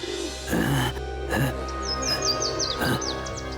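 Birds chirping and calling in a TV drama scene set in a fantasy demon city, a run of quick high tweets and trills over a steady background hum, with a few brief vocal sounds in between.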